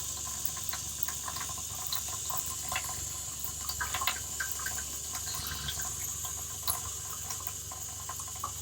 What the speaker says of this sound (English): Let the cold water run, get some pink in here.